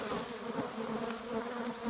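Honeybees swarming around an open hive during an inspection while honey supers are added, a dense, continuous, close buzzing hum with individual bees droning past, and no talking.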